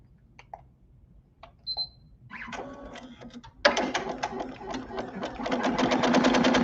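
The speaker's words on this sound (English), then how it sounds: "let's go ahead and watch as we sew that tack down stitch" A Happy 12-needle Voyager embroidery machine sews a tack-down zigzag stitch on a finished-edge patch. A few faint clicks come first, then a loud, close, rapid and steady run of stitching takes over and keeps going.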